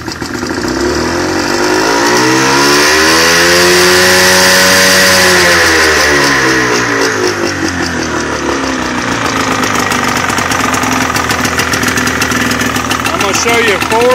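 A Johnson 48 SPL outboard motor on an Eldocraft boat, running on 50:1 premixed fuel, idles loudly and close by. It revs up and settles back, then runs with a steady, rough throb while a person talks over it.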